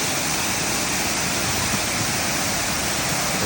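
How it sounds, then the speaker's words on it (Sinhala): Sera Ella waterfall at Riverston, Matale, roars as a steady, dense rush of falling water, loud and close, holding unchanged throughout with no voices. "ඒ වතුර වැටෙන පවර් එකත් එක්ක එතන යට ගැඹුරට වලවල් වගේ හැදලා තියෙනවා"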